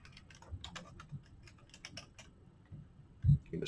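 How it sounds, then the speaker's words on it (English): Typing on a computer keyboard in a quiet room, a steady patter of light key taps with one heavier thump near the end, close and fairly soft. "You can just type that in."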